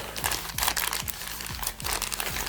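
A plastic coin package is opened up close, crinkling and crackling steadily with a dense run of small rustles and snaps, without any talk.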